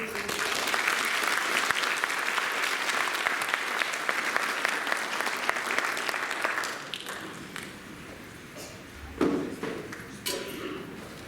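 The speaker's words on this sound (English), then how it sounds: "Let's give them all a big round of applause." Audience applause at a school bands spring concert, a dense steady clatter of many hands that fades after about seven seconds into scattered claps and a few thumps.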